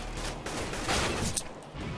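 Gunfire in the video game CS:GO crackles as a dense burst of rapid shots over a steady noisy background, with one sharper report standing out near the end and no voices.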